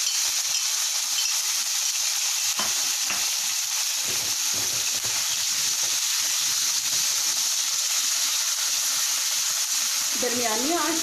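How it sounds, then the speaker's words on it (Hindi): Marinated chicken fries in two tablespoons of cooking oil in a wok, giving a steady, loud, continuous sizzle with occasional crackles and faint stirring, and no voices. "वोक में हम 2 खाने के चम्मच कुकिंग ऑयल लेंगे और मैरिनेटेड चिकन को इसमें हम कुक करेंगे।"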